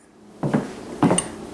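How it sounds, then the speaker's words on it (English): A blender is washed out at a kitchen sink, with two close clunks of hard kitchenware knocking against a quiet background and no talking. "I'm just going to go wash out my blender and I'll be right back"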